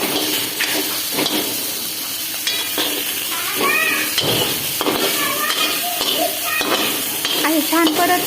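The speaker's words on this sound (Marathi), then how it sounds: "बोंबील परतून घ्यायचे छान असे मस्त कडक होईपर्यंत." Bombay duck (bombil) fish fries in hot oil in a heated kadhai, making a loud, crackling sizzle broken by repeated clatters of a stirring spatula, and a voice talks now and then.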